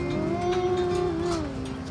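A dairy cow gives one long, close moo with a slight rise and fall in pitch, heard alone without speech.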